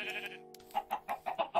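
Sheep in Minecraft bleat in a string of short, quick calls, close and clear with nothing else under them.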